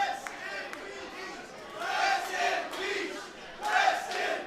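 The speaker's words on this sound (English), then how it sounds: "Crowd is chanting rest in peace" Crowd chanting at an NHRL destructive robot fighting match after a Georgia Tech versus University of Illinois Urbana-Champaign bout, rising in loud rhythmic swells from the stands with chatter between bursts.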